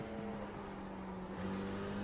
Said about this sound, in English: and the gorgeous engine noises